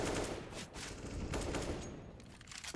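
Rapid gunfire from a CS:GO match between BIG and Entropiq, a dense stretch of overlapping shots and bursts at steady loudness with no clear talk over it.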